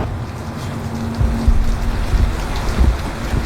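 Heavy rain falling outdoors in a steady, loud broadband wash with low rumbling gusts, continuous throughout, with no talking.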